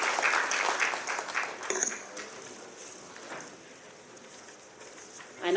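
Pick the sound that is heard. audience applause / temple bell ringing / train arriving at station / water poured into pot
audience applause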